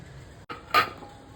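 A metal idli pot and plate are handled while steaming sweet and savoury sago kozhukattai, giving a brief near metallic clink and clatter against a quiet kitchen background.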